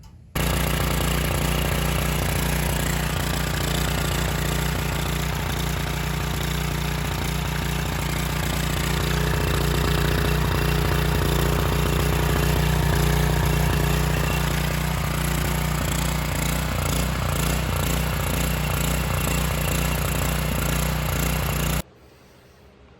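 Troy-Bilt 6250 watt generator engine running steadily at close range, a loud continuous mechanical drone that holds for about twenty seconds before cutting off abruptly.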